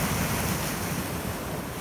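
Rough ocean surf crashes against the basalt columns of Giant's Causeway, a loud, continuous roar of breaking water mixed with heavy wind buffeting the microphone, with no talking.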